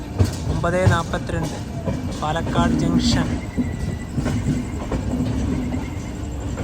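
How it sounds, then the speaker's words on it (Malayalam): Millennium Express train arriving at platform 5 of Palakkad Junction railway station, a steady rumble of rolling wagons throughout with someone talking over it. "5ാം നമ്പർ പ്ലാറ്റ്ഫോമിലേക്കാണ് ട്രെയിൻ വരുന്നത്"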